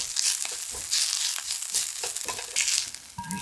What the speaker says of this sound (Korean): 썰어놓은 양파를 모두 넣고 골고루 볶아주세요.